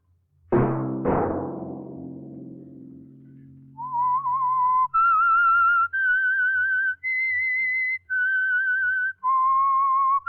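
Two sharp struck tones ring out and decay, followed by a clear whistled tune of six sustained notes, loud and alone, the theme of the radio show The Whistler.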